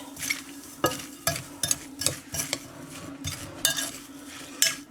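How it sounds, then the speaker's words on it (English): Panko breadcrumbs are stirred into a fish stuffing for stuffed sole, a spoon scraping and clinking against the bowl in a series of irregular close strokes with quiet pauses between. "Give that a good mix around."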